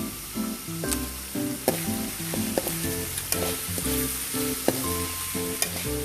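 Sliced ampalaya (bitter gourd) frying in hot cooking oil, with a steady, close sizzle and crackle throughout and soft music running underneath.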